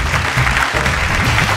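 A TV singing-contest studio audience claps loudly and continuously to welcome three contestants, steady applause with no break.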